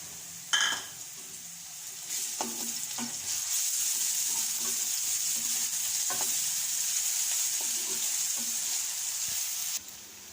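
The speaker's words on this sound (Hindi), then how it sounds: "प्याज हमारा ब्राउन हो गया है, इसमें अदरक और लहसुन का पेस्ट डालेंगे।" Ginger garlic paste hits a pan of browned onions with a sudden sizzle, then fries with a steady bright crackle, broken by occasional clinks of a spoon stirring against the pan, close and continuous until it abruptly drops.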